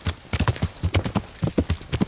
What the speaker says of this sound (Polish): Dobra, to na koni jedziemy.